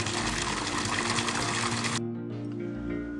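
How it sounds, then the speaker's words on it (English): A garden pond fountain with two water spouts, splashing in a steady dense wash that drops abruptly partway through to a softer trickle over a low pump hum. "So this is our beautiful fountain. You can see we have two different water spouts coming out of it."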